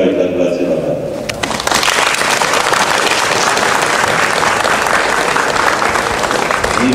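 Audience at a municipal council session breaks into sustained, dense clapping that swells after a brief lead-in and fills the room evenly, with a voice speaking at the very start.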